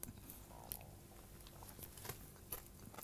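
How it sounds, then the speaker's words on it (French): Crisp bites into a fried brown trout skin chip at a farm table in Hauteluce: quiet crunches and chewing scattered over about three seconds, close up, with a couple of sharper snaps near the end and no talking. "Je vais croquer un bout de la robe de Madame la truite Fario."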